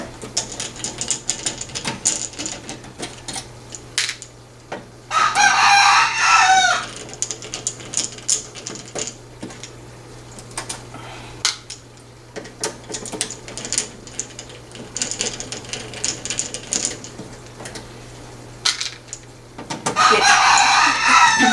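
A rooster crows loudly twice, long strained calls several seconds apart, between bursts of clucking and light clicking nearby.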